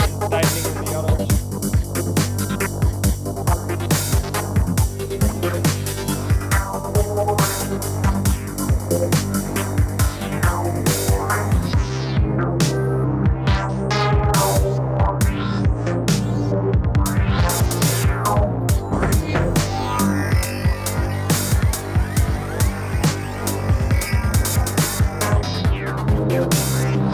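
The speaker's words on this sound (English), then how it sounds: "slowly you start releasing the gate on some instruments and tightening on the others" A psychedelic gated lead synth pulses in rapid chopped rhythm, with gate automation opening and tightening on different instruments over a steady throbbing low drone, loud and continuous, no voices.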